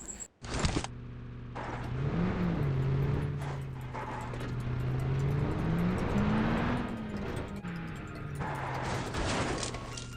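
Car driving in the mobile battle royale game PUBG Mobile, an engine droning and rising and falling in pitch as the vehicle speeds along, with short clicks at the start and near the end.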